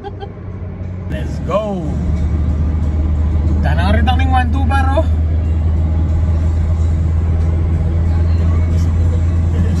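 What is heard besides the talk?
traffic of cars heading back to Manila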